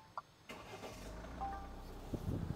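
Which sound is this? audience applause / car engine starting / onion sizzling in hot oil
car engine starting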